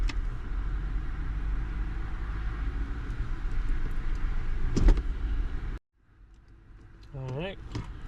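An Infiniti QX80 SUV engine idles steadily with a low continuous rumble during a transmission fluid change, a brief clunk partway through, then the running stops abruptly and a quieter stretch follows with a faint whirring sweep.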